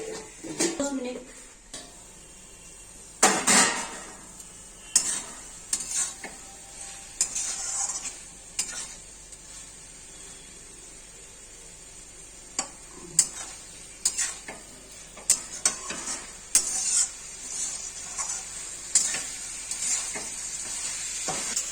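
Banana flower curry with potato and soybean chunks sizzles in a pan while a spatula stirs and scrapes, giving repeated clattering knocks over a constant frying hiss. A voice speaks intermittently over the cooking.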